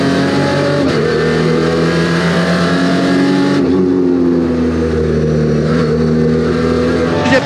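A race car on the Sprint Race circuit roars past loud and close, its engine note holding a steady harmonic drone that dips and shifts mid-pass, with a broad wash of track noise around it.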